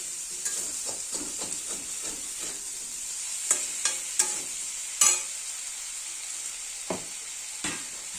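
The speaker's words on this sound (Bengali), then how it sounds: "এই যে ভাজা ভাজা হয়ে গেছে আলু পটলটা নরম হয়ে গেছে" Potatoes and pointed gourd fry in a pan for a vegetarian curry, with a soft steady sizzle and a run of spatula scrapes and taps that thin into a few sharp clicks, with no one talking.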